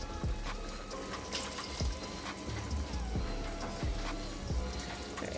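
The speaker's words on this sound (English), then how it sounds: "So I'm just gonna add a little bit more water to it" Water poured from a tap into a pot of Jamaican brown stewed turkey neck in a home kitchen, a steady close splashing trickle with scattered drips and clinks, no talking.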